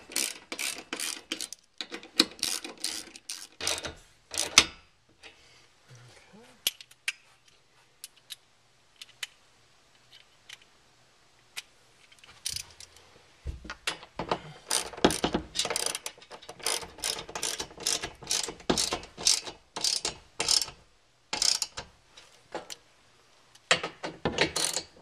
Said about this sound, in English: once you have all the bolts in, we'll just temporarily tighten everything down here